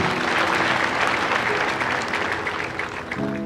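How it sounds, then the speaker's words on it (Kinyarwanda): Dense, steady applause from a large audience at the installation ceremony of a bishop in the EAR Diocese of Shyogwe, sustained and loud throughout with no voices over it. "nibabaha amashyi kuko murayakwiriye."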